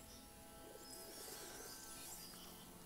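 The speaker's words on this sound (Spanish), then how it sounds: "Y ahora escucho palomas." Pigeons coo in the video game A Plague Tale: Innocence, a soft, steady murmur of birds under a constant hiss of ambient game atmosphere, moderately distant and quiet throughout.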